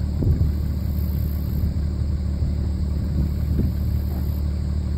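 A John Deere tractor with a pony-motor starter, used for hay tedding, runs with a steady, loud, low engine rumble and faint periodic knocks, heard alone without talking.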